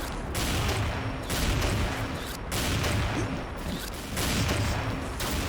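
Sniper rifle fire in the online shooter XSHOT, loud repeated blasts in bursts over a dense background of game effects and rumbling.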